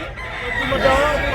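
Rooster crowing at a busy cockerel market in Tabunok, Talisay, Cebu, one brief crow close by amid crowd noise and voices talking.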